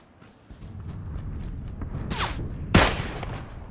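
Gunfire in a video game battle as a building is assaulted: a dense, continuous rumble of distant shots with a couple of sharper, louder cracks standing out near the end.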